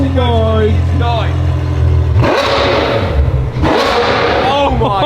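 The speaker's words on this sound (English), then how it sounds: "It only lets me rev it to 4K at the minute." A Ferrari 812 V12 engine is revved against a soft limiter at 4,000 RPM in two sharp, loud bursts that fall away, while people talk excitedly over it and before it.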